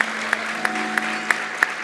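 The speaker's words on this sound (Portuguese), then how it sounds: "Uau, uma salva de palmas, né?" Sparse, evenly spaced sharp hand claps, about six in under two seconds, sounding close over a steady background hum during a talk show segment.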